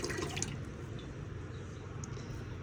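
Water trickling and dripping from a crochet yarn water balloon, a soft, faint, continuous wet patter with a few small distinct drips, heard alone without talk.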